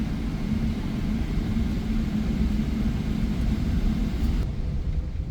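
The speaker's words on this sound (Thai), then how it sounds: "ตอนนี้เครื่องบินก็กำลังจะเทคออฟจากสนามบินมะนิลาแล้วครับ" Cabin of a Philippine Airlines airliner at Manila airport just before takeoff: a steady, loud low engine rumble and broadband roar, constant throughout with no talking.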